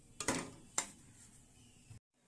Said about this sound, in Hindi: तो इसमें इसको चलाते रहना है, इसको जलने नहीं देना है।